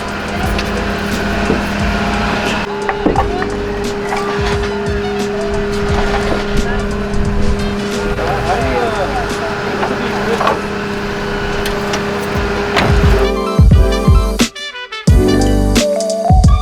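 A Nissan S15 is driven hard, its engine revving loudly and continuously with tire squeal and skidding mixed in, while people talk over the noise.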